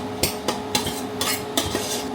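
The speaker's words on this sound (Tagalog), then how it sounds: "Dudurugin ko yung kamatis para maluto talaga" Rhythmic scraping and mashing as tomatoes are crushed in a pot with a utensil, about eight quick strokes in steady succession, close and clear with no voices.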